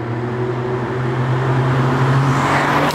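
Modified Mk8 Ford Fiesta ST with an induction kit and Milltek exhaust runs with a steady, loud engine drone and low exhaust hum, the pitch rising slightly as it builds, close up with no talk.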